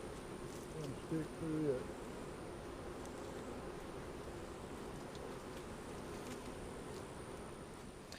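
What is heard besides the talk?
honeybees buzzing around an opened hive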